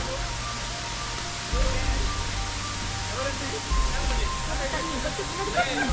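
Konai Falls roars as a constant, broad rush of falling water, at lower flow than the day before, with people talking nearby over it.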